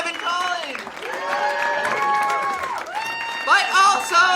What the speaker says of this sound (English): One more time for Deb and Colin.